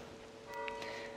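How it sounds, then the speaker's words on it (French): A church bell rings faintly at a distance over a steady tonal background hum, with a few soft strikes standing out. "Vous entendez l'église et la cloche?"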